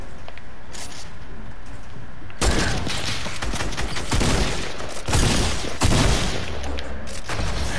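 Video game gunfire: after a quieter opening with scattered distant shots, dense bursts of near, loud shooting and blasts begin around two seconds in and continue in heavy repeated volleys, with no talking.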